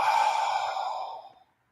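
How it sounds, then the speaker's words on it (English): One long, deep exhale during a guided meditation, a close breathy sigh that fades out smoothly over about a second and a half, with no talking. "Take a deep breath into your stomach, all the way up to your throat. Hold it, and then let it go."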